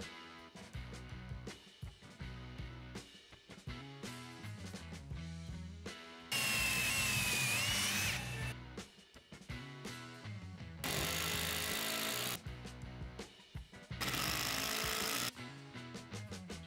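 A power tool drives screws through pocket holes into 2x4 framing for a mobile workbench, in three loud sustained whirring bursts set against a busy, rhythmic background.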